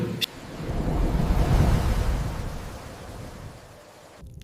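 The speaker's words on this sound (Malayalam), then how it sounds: "പെട്ടകം വെള്ളത്തിനു മീതെ സുരക്ഷിതമായി ഒഴുകി." Rolling waves and wind around a large wooden ark afloat on floodwaters during heavy rain, a steady broadband wash swelling in the first half, then easing and fading out near the end.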